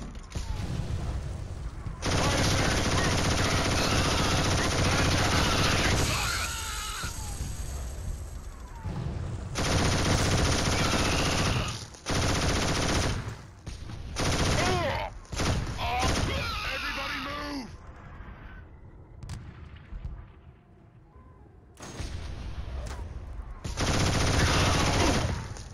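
Machine gun fire in the PS3 game Killzone HD, long sustained bursts of rapid automatic shots broken by short pauses and mechanical clatter, with battle voices mixed in.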